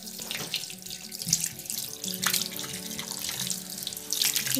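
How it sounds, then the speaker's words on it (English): Hands being rinsed under a running tap during handwashing, a steady close stream of water splashing into a sink with shifting splashes as the hands move through it. "Rinse hand with water."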